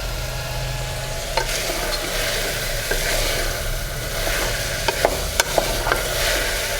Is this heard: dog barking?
no